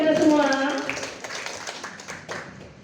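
Following a short voiced sound, a group at a school training session on positive culture claps: scattered, fairly light hand claps that thin out and fade over a couple of seconds.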